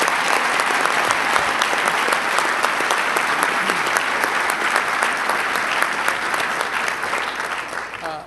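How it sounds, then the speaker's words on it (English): A round of applause at an announcement event welcoming new companies to a high-tech manufacturing complex, a sustained and even wash of clapping from a large crowd that tapers slightly at the end. "let's give them a round of applause and welcome them"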